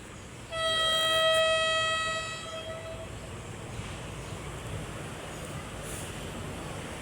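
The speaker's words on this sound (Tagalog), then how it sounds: "Oh, madumaan train." A train passes slowly through a rural barangay in Sugod, Lopez, Quezon, opening with a loud, sustained horn blast that lasts a couple of seconds, then fading into a steady low rumble of rolling wagons.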